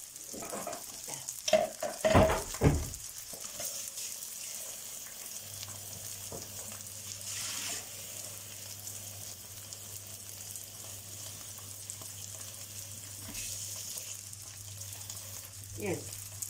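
Water poured into a pan of cabbage (kapusta) with fried onions hisses and sizzles loudly at first with stirring clatter, then settles into a steady low simmering bubble with occasional scrapes.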